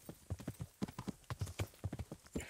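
Hooves of a horse clip-clopping in the medieval video game Kingdom Come: Deliverance, a quick irregular run of hoofbeats heard close and fairly soft.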